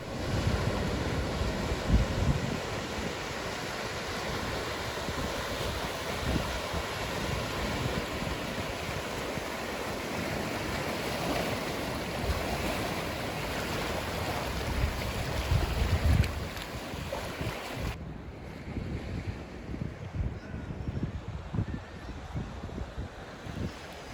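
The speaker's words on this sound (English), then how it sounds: "let you enjoy the sounds of this beach" Surf rolls and washes onto a beach in a steady, broad rushing wash with wind buffeting the microphone, continuous and fairly close, quieting slightly toward the end.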